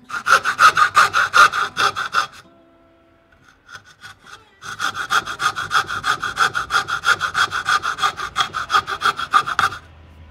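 A fine-toothed hacksaw cutting through a plastic AK rifle magazine: quick, loud, rhythmic back-and-forth rasping strokes, a short pause with a few light clicks, then another long run of steady strokes.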